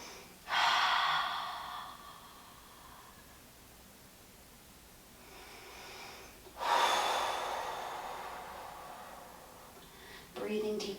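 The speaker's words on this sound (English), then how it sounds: "Breathing deeply" Slow, deep breaths during a yoga flow, two long audible exhales several seconds apart with a shorter breath at the end, close and soft, no talking.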